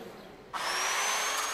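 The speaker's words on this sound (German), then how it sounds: "Das überschüssige Material wird weggeflext." Angle grinder grinding excess weld material off corroded hose fittings on a Mercedes-Benz part; a faint background gives way to a sudden steady high whine that holds at close range.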